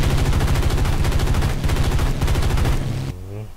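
Rapid, sustained machine gun fire in the video game War Thunder bursts loudly and continuously, then cuts off abruptly near the end as a low engine-like rumble remains.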